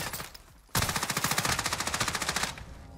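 Rapid automatic gunfire in a video game, a steady burst of loud repeated shots lasting about two seconds, then cutting off abruptly, with no talking over it.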